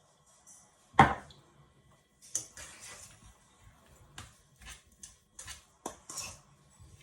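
Cooked potatoes being mashed and stirred with parsley in a dish: irregular clinks and scrapes of a utensil against the dish, one sharp knock near the start and then sporadic softer taps, quiet and close.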